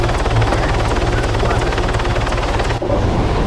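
A civilian Orca helicopter in a video game drones steadily with rapid rotor chop, loud and close throughout with only a brief dip near the end.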